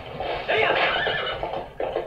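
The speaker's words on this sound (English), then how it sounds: "it sounds so painful whenever you like kick your horse" Epona, a horse in The Legend of Zelda: Twilight Princess game, lets out a loud, close, strained whinny lasting over a second, followed by a shorter snort-like neigh.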